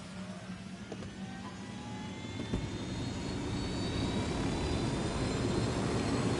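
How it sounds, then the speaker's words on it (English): A helicopter takes off in the video game Ghost Recon, its engine whine and rotor roar building steadily louder over several seconds, with no talk. "Shit, I guess I'm stealing a helicopter."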